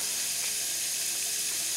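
Meat browning for goulash in a Dutch oven gives off a steady, soft sizzle with a faint hiss of steam, continuous and fairly quiet throughout, with no voices.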